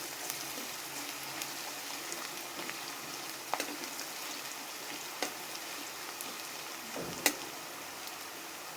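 Onion, ginger and garlic frying in a pan, a steady soft sizzle running throughout with occasional sharp pops and stirring clicks, close up and with no voices.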